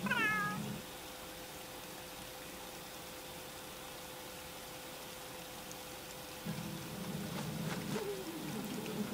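A cat meows outdoors in a short rising series right at the start, then quiet ambience with a steady hum and soft rain-like patter follows, with faint rustling toward the end.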